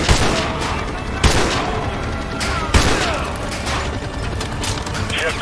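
Sniper rifles fire in Call of Duty Modern Warfare 2, with two loud, sharp cracks about a second and a half apart over a dense, constant battlefield din and mechanical rattling.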